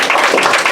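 An audience claps in steady, dense applause at a community gathering, close and loud for under a second, with no talking over it.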